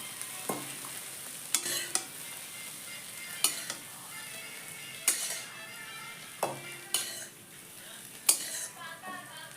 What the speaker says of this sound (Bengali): এখন ডিমটা খুব ভালো করে ভাজিয়ে নিচ্ছি